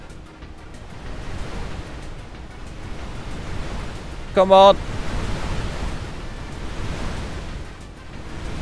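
Ocean waves in a Roblox game rush as a steady broadband wash of surf throughout, with a voice speaking briefly over it midway.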